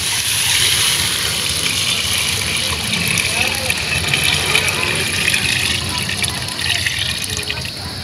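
Water runs from a tap into a pot for miso soup broth with giant catfish, a continuous splashing fill close by, with a voice speaking over it.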